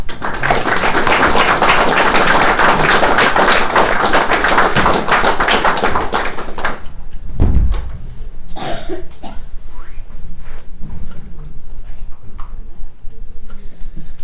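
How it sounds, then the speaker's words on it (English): Audience applause at a talk on the shamanic path: dense, sustained clapping from a crowd for about seven seconds, then dying away into scattered claps, a thump and quiet room noise. "a big round of applause please to Jez Hughes."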